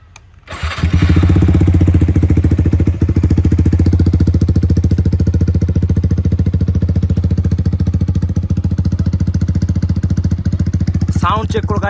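A Yamaha R15 V4 motorcycle fitted with an Akrapovic exhaust cold-starts and settles into a loud, close, steady idle with a rapid, throbbing exhaust pulse.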